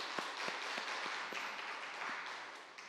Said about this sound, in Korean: 우리 박수로 환영하고 격려하겠습니다